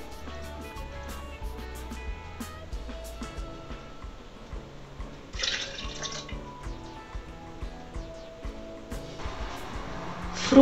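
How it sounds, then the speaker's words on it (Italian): Half a cup of milk is poured for a creamy no-cook mint and avocado pudding, a light liquid trickle heard under gentle background music with a few faint clinks. "E ora vado a versare mezza tazza di latte."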